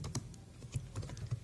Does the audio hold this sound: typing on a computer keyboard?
yes